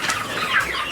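Farm chickens cluck in a quick, close run of calls, fairly loud and with no talking over them.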